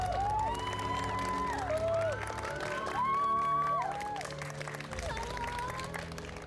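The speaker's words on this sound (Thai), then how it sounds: "ขอเสียงปรบมือให้กับคุณปืนด้วยครับ" An audience at a film Q&A applauds and cheers for the lead actor: sustained clapping with high, wavering shrieks and whoops rising over it.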